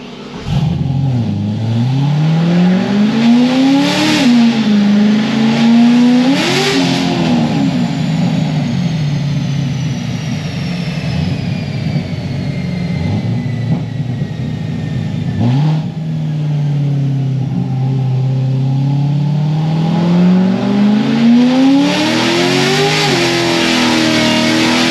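A cammed LS3 Corvette Grand Sport accelerates hard and shifts gears, its loud, close exhaust rising in pitch through several pulls with brief drops at each shift and a steady rumble between.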